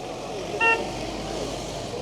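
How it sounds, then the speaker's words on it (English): One short car horn toot from nearby in Blackpool on a football matchday, cutting briefly through steady road and engine noise. "There's someone honking at me for holding them up."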